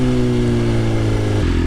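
A 2024 BMW S1000RR motorcycle with aftermarket exhaust headers idles loud and close, a steady harmonic engine drone that drops to a lower, rougher note near the end.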